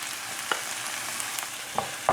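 Minced meat frying in a hot pan for stuffed bread filling, a steady soft sizzle with a few faint clinks of a utensil against the pan, heard close with no talking.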